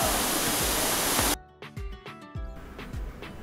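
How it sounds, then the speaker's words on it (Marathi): A secluded waterfall near Pune roars as a loud, steady rush of falling water, then drops abruptly to a softer, more distant flow broken by a few dull thumps. "पाण्याचा जो आवाज होता ना खूपच सुंदर"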